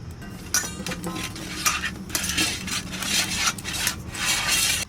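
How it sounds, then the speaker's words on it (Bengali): A hand smears mustard oil across a plate while making homemade mango leather (aam papad), giving close, intermittent rubbing and scraping strokes with faint clinks of the dish. "থালায় একটু সর্ষের তেল মেখে নেব"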